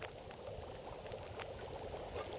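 Water poured into a can over a fire in The Long Dark survival game, a steady low trickling pour running continuously beneath faint background crackle.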